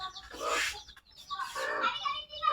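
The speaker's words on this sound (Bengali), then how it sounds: "মুরগির বাচ্চা কই মুরগির বাচ্চা কই এই যে ঢাকতেছি" Chickens and young chicks cluck and chirp at close range in a farmyard, in two or three short bursts of busy calling with brief pauses between.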